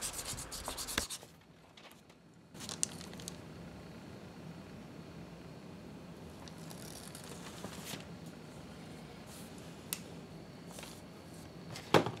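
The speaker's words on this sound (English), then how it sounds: "you can go over it with some fine grit sandpaper" Fine grit sandpaper rubs over tooled leather while a cowboy holster is being made, producing soft, close, repeated scratchy strokes at a low level, with a few brief sharper handling noises.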